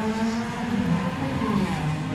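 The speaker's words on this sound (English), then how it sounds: "And the cars are off." Honda race cars up to 1600 cc pull away from the starting grid together, a loud, continuous blend of revving engines with a faint tire squeal, heard from nearby.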